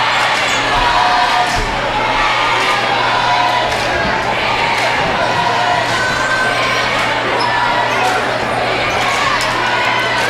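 Gym crowd noise fills the space at a Kenwood high school boys basketball game during a late timeout, steady and loud, with cheerleaders on the floor rousing the fans and occasional sharp bounces and shouts above the din.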